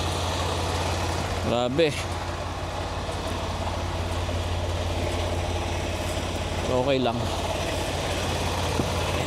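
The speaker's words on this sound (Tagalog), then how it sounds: "maingay itong makina eh." A heavy diesel truck engine idles steadily with a low droning hum, while people speak briefly over it.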